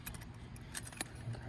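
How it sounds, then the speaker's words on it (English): A set of Allen keys jangles in a few quick metallic rattles while a car's air intake is being worked on, close and fairly faint, with no voices. "Plenty of Allen keys."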